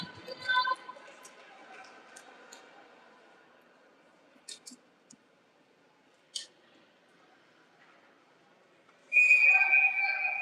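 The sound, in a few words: referee whistle at an ice hockey game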